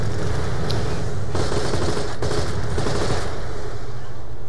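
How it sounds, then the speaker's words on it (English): Missiles fired at Handsome Jack in a video game: a loud, dense, continuous barrage of rapid blasts and explosions filling the whole stretch, swelling in the middle, with game action noise throughout. "Shooting the missiles at Handsome Jack"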